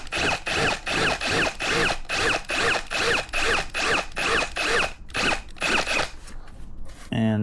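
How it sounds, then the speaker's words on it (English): A drill with a 7mm bit enlarges existing mounting holes for a Raptor Engineering binnacle, giving a close, loud run of about a dozen evenly spaced rasping grinds that stop briefly, then return in a few shorter bursts before a final clunk. "We need to open up the holes using a 7mm drill"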